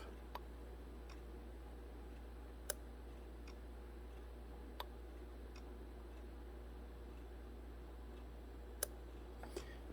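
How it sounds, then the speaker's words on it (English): On a 2006 Honda Civic with the engine off, the AC clutch relay clicks as it is toggled, giving several crisp, isolated ticks spaced a few seconds apart over a constant low electrical hum. "So that relay is clicking on and off."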